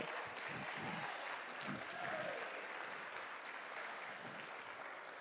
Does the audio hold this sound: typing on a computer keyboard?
no